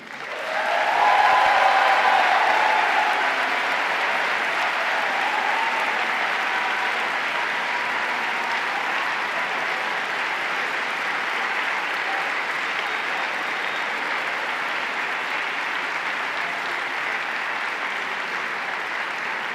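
An audience at a prizegiving ceremony of an international chamber choir competition applauds a women's choir from Italy, a dense, steady wash of clapping that swells quickly and holds evenly for about twenty seconds.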